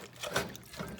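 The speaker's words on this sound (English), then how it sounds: "So just pour it all in there." Adobo sauce liquid poured into a pot for Filipino pork adobo, a short close splashing pour lasting about a second with no talking.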